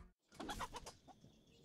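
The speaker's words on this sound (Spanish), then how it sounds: "aquí hay gallinas." A chicken in the pixel-art pirate video game Pixel Piracy gives a short, quiet burst of clucking, heard alone with no talk.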